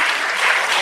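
Audience applause at a state-level International Girl Child Day ceremony welcoming Avani Lekhara, a dense, loud burst of clapping from a crowd, brief and continuous.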